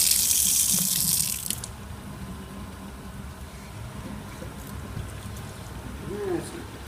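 Water rushes loudly into a Simpson 8.5kg washing machine packed nearly full of clothes, a bright hiss for the first second and a half, then a quieter churning rumble with a faint voice talking in the background.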